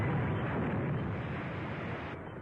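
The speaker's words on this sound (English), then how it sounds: "That's a 3-inch shell they're firing at us." A 3-inch shell explosion in a 1945 film serial, heard as a loud, dense rumbling roar that fills the whole clip and cuts off slightly near the end.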